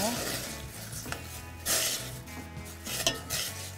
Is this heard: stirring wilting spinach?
yes